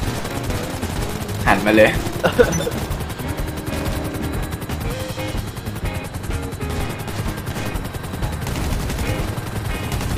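Sustained gunfire from GTA Online as players shoot at a helicopter, with dense rapid automatic bursts and a rotor drone running continuously underneath, while someone speaks briefly over the shooting.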